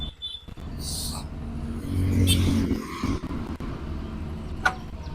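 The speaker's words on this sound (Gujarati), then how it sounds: "આનો પહેલાં સ્ટાર્ટિંગમાં તમને અવાજ સંભળાવી દો" A motorcycle engine sputters to life and revs up briefly, then settles into an uneven idle with a few sharp clicks and bursts, close by.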